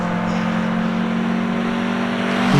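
A Datsun 1600 race car at a hillclimb holds a steady droning engine note at a sustained pitch, fairly loud and unbroken, with the engine starting to rise right at the end.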